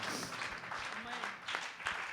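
A church congregation claps along in quick, uneven bursts, moderately close, with a voice speaking over the applause.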